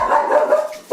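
Dogs bark and yip loudly and close up in a short, excited burst, with a brief pause before another bark.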